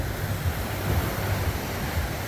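Ocean waves wash steadily onto a beach at Sayulita, a continuous broad roar with a low rumbling surge and some wind noise, heard alone with no voices.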